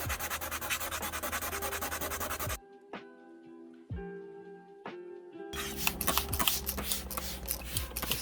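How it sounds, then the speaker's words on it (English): Spot sanding the clear coat on a 2012 GMC Denali headlight, a dense scratchy rasp in two stretches broken by a quieter gap with a few tapping knocks, close and steady with no talking. "Just spot sanding more."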